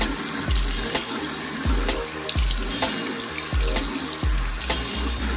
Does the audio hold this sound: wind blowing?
no